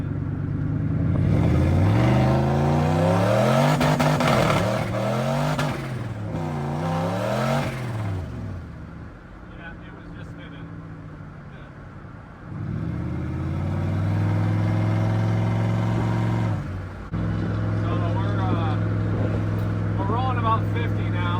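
A DIY-turbocharged Ford F250 truck with a DOHC engine accelerates hard from a roll, its loud engine revving up through rising sweeps, easing off midway, then surging again in long, strong pulls.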